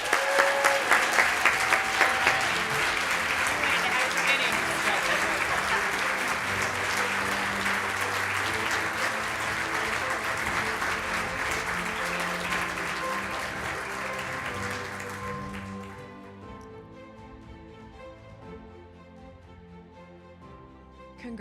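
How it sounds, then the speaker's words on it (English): Audience at a military child awards gala applauds in a sustained, dense ovation that runs strong for about fifteen seconds, then fades as quieter tones and some background remain. "giving a double round of applause for this inspiring young leader"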